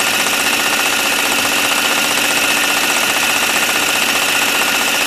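A PM Research model dynamo running at 900 RPM gives a steady, even mechanical whir with a fine rapid pulse, constant and close without any talk.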